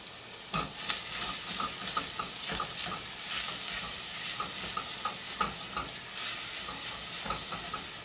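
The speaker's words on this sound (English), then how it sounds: "While you're sauteing the Trinity, add about a teaspoon of your Tony's Creole seasoning. Stir that up good." Onion, celery and bell pepper sauté with Creole seasoning in a pan, a soft steady sizzle broken by the repeated scrape and tap of a spoon stirring, heard close with no talking.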